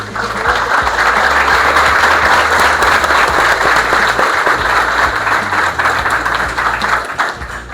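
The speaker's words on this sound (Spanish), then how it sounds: "Quiero antes de nada recibir con un fuerte aplauso al profesor Víctor Rivera." Sustained, loud applause from a live audience welcoming professor Víctor Rivera at a Peruvian football coaching talk, dense clapping filling the full length without talk.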